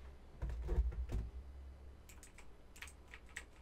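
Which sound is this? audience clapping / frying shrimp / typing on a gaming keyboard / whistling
typing on a gaming keyboard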